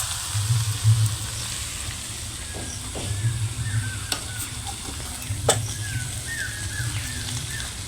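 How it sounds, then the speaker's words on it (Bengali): Chow mein is tossed and stirred in a kadai, a steady frying sizzle with scraping strokes of the utensil and occasional sharp clinks against the metal. "এইবার হালকা একটুখানি নেড়ে নেব, এদিক সেদিক করে নেব"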